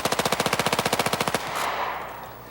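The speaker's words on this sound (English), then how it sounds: "Harry Reinfelder sprays milk jugs with a machine gun burst." A machine gun fires a rapid burst of about sixteen evenly spaced loud shots at milk jugs outdoors, then stops, leaving a rolling echo that fades away.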